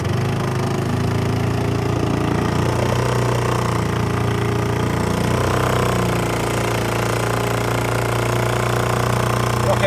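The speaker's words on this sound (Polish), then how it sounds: "Motor walczy, ale wiadomo, to silnik spalinowy." A small low-power combustion boat motor runs continuously close by on a river, a steady droning chug with a slight knocking rhythm that shifts pitch a little.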